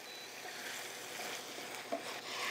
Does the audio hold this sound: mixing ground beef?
yes